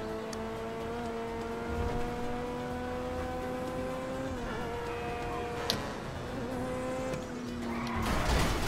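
A car in the video game GTA Online drives with a steady droning engine tone, its pitch wavering and dipping, then ends in a short burst of skidding and a crash impact near the end, with no talk.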